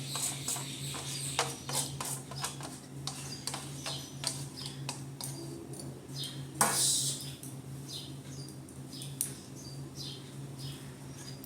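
A spoon scraping and tapping against a dish or pan while mango leather is prepared, irregular sharp clicks and scrapes at close range, quiet room, no talk.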